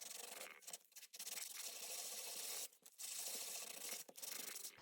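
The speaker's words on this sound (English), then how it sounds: "So I'll just sand these a little bit." Rough, scratchy sanding of handmade plastic stamps by hand, close and steady in long strokes with a few brief pauses, no talking.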